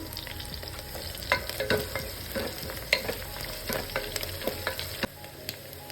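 Onions and green chilies frying in oil for veg pulao, a constant close sizzle broken by repeated scraping and clinking strokes of a spatula stirring the pan, with no voices.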